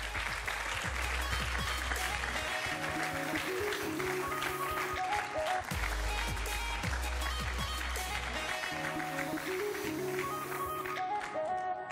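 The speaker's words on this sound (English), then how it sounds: "Give them a round of applause as they come onto stage." An audience at a televised talent show semi-final applauds as contestants walk on stage. The clapping runs throughout beneath a loud, thumping music bed with bass notes.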